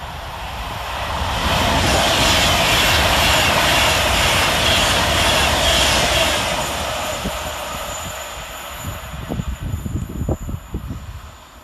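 Class 390 Pendolino 390-008 running through Nuneaton station on the fast lines, a loud rushing roar that swells and holds for several seconds, then fades into rattling wheel and rail thumps as the train clears.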